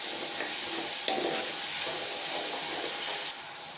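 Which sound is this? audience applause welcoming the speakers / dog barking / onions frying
onions frying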